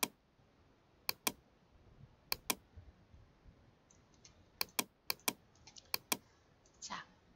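Someone types on a computer keyboard, making sparse, crisp key clicks in small bursts of two or three with short pauses between them, close and fairly quiet.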